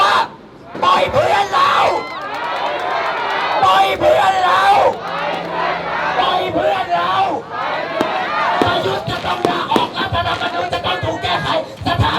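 A large street protest crowd in Thailand, calling for the release of activists, shouting and yelling together in loud sustained bursts, with voices rising and falling across the clip.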